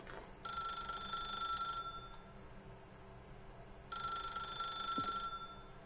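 A telephone rings in a video game with two bursts of bright electronic ringing separated by a pause, clear and fairly close over a low background hum, with no talk.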